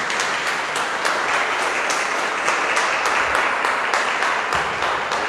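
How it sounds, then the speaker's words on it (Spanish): A church congregation gives Christ a strong round of applause during a Catholic talk, dense and steady clapping filling the room from start to finish with no speech over it. "Vamos a darle un fuerte aplauso a Cristo"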